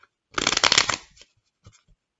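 Tarot card deck being shuffled for a reading, one close crisp riffling burst lasting under a second, followed by a few faint soft taps.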